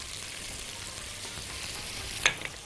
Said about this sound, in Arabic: نقلب زي ما انتم شايفين كده، بدا البصل يتكرمل